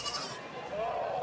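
Goats bleat at a crowded livestock market in Lonand, one drawn-out rising bleat standing out near the end over a busy background murmur of people.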